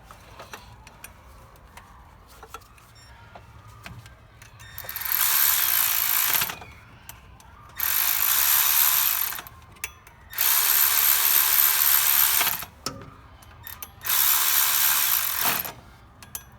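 A ratchet tightens the water pump pulley bolts on a 2004-onward Nissan Titan, in four loud, close, steady whirring bursts of one to two seconds each, with short pauses between them.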